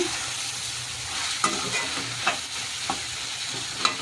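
Tomatoes stewing in a pan, a soft continuous sizzle and bubbling with a few sharp ticks of a spoon or spatula stirring, close up and with no voices.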